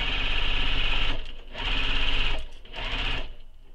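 A sewing machine backstitches and then stitches along the edges of a tote bag pattern piece, running in three steady bursts of motor whir with short pauses between them, close and loud, with no voices.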